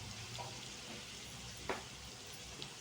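Onions frying in a pan with green chilli and masala, a quiet, even sizzle with a soft stir or tap partway through, no voices.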